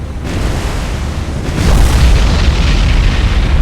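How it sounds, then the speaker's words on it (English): A warship's magazine detonating in the naval game War on the Sea, a deep, loud rumbling boom that swells after a second and keeps roaring without a break. "the Akatsuki suffered another explosion, magazine explosion, so she's dead."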